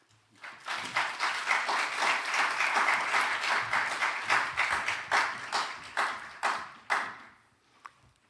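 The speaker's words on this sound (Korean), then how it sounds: "이제 총장님 나오실 때 한 번 더 박수하겠습니다" A university chapel audience claps as the honorary president comes forward, applause swelling quickly from quiet, holding strong, then thinning into scattered individual claps and a last lone clap.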